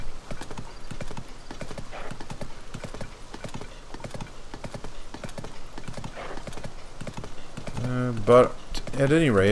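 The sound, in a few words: horse hooves galloping in Tears of the Kingdom video game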